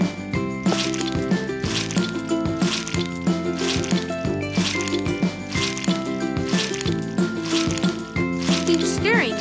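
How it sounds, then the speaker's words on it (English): Squishy, wet mixing of pizza dough ingredients with a spatula in a cartoon pizza cooking game, soft repeated squelches over steady upbeat background music and a voice narrating. "Mix the ingredients with a spatula."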